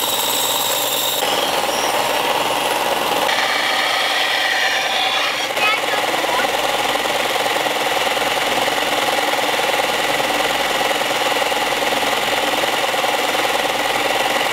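Knife blades are polished with fine grit abrasive, a steady, loud rubbing and grinding hiss that runs unbroken throughout, shifting slightly in tone during the first few seconds.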